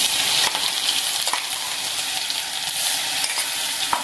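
Ground green chilli paste fries in a little hot oil with mustard seeds and cumin, giving a loud continuous sizzle with occasional small clicks from the pan, close up and without speech.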